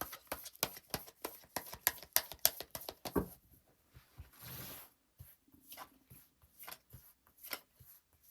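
Tarot cards shuffled in a quick run of crisp riffling flicks, followed by softer slides and taps as cards are drawn and laid out, close up and quiet with no speech.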